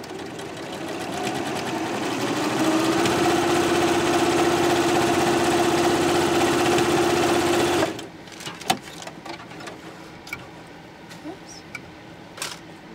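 A sewing machine joins two skirt pieces along a 1.5 cm seam, humming in one continuous close run for about eight seconds before stopping. Light clicks and handling noises follow.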